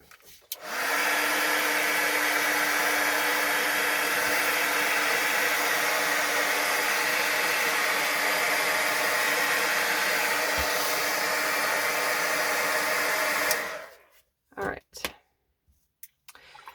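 A hair dryer blowing steadily on wet watercolor paint on paper, a loud continuous close whoosh and hum that runs for about twelve seconds, then cuts off, followed by a few soft handling bumps.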